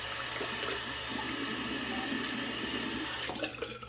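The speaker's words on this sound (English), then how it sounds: "Rinse my hands real quick." Water runs steadily from a tap as hands are rinsed, a continuous close splashing hiss that cuts off near the end.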